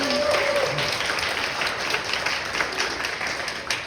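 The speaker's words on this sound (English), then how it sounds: "Round of applause for Jacqueline, please." Audience applause at an indoor health and fitness talk in a Sydney office, a steady wash of clapping hands that fills the whole few seconds at close range, with a bit of murmuring.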